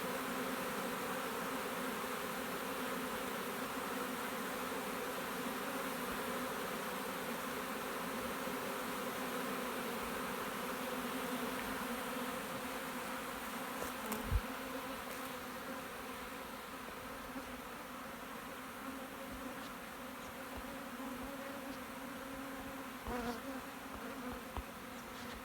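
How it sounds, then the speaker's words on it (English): A honeybee swarm gathered around its queen in a catch box hums steadily and thickly for the whole stretch, a continuous close buzz of many insects with no talking. "a swarm will always walk to the queen."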